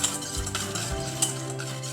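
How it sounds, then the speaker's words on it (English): Hot cream is ladled into a bowl of egg yolks and stirred, giving a steady liquid swishing with a couple of soft utensil knocks against the bowl, close and continuous. "I'm slowly going to ladle some of that hot cream into the bowl with the eggs here"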